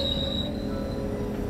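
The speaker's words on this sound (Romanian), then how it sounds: "E un tren pe care trebuie să-l iei odată în viață." Train ride on the rail line to Machu Picchu: continuous rolling rumble of the carriage with a steady high wheel squeal or whine above it, fairly loud and unbroken, no talk.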